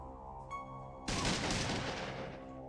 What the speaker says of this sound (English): We're gonna do 1 more burst, and then we'll reload.